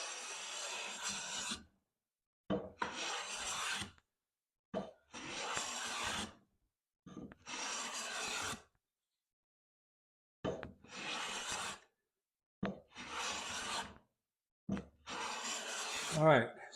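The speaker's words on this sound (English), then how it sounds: "if I keep planing with the Lie-Nielsen, I will make that go away" A Lie-Nielsen 4-1/2 smoothing hand plane shaves wood in repeated close, rasping strokes, about nine passes in irregular bursts separated by silences.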